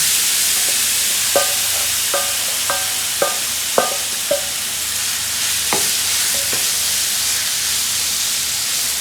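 Loud, steady sizzling of Turkish tawa chicken dropped into hot oil in a heated pan, a dense continuous hiss broken by several sharp metallic taps and clinks of a utensil against the pan.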